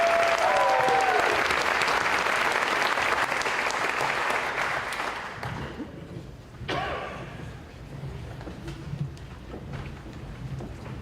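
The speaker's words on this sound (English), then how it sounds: "We could have one more round of applause for your state championship track team." A high school athletic awards ceremony crowd gives a round of applause for the state championship track team, heard as loud, sustained clapping that fades out into quieter room murmur.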